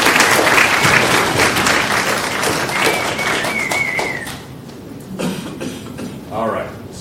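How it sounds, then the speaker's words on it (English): Audience at an evening drug-policy forum applauding a panel: dense, sustained clapping from a full room that gradually thins out toward the end. "So how about a round of applause for our panel?"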